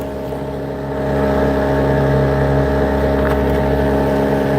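A motorboat engine cruising on open water between Clewiston and Moore Haven, a loud, steady droning hum that swells up after the first second and holds constant with no speech.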